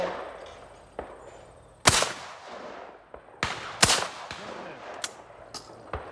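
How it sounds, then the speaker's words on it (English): Shotgun practice shot at a sporting clays range: several sharp outdoor reports and clicks with a few loud cracks, spaced irregularly against quiet surroundings. "That was your practice shot."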